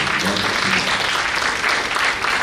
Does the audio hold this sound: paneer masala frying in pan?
no